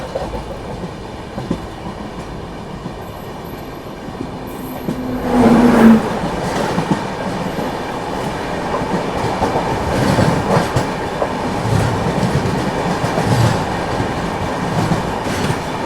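The Swaraj Express rolls along the rails with a continuous loud rumble and rhythmic clickety-clack of the wheels, close by, with a brief metallic squeal early on.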